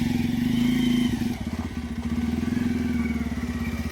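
A motorcycle engine chugs with a rapid, rhythmic throb, loud and nearby, briefly easing midway before settling back into a steady pulse as the bike moves off.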